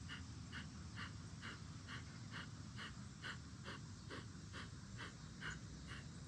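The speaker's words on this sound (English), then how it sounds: "begin the breath of fire" Rapid, even breath of fire yoga breathing: about fourteen sharp, evenly spaced nasal exhalations in quick rhythm, close and fairly soft, with no talking.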